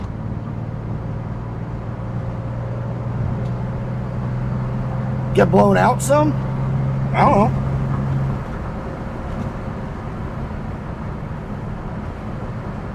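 A 1966 Chevy Corvair with a newly installed HEI distributor idles smoothly and steadily with a low, even hum, while a person speaks briefly over it partway through.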